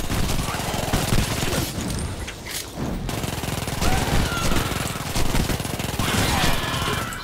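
A fire-damage weapon blazing away in Shadow Warrior 2, dense rapid shooting with crackling bursts and occasional heavier impacts, loud and continuous throughout, with a brief lull partway through.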